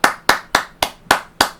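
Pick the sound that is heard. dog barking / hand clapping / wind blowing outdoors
hand clapping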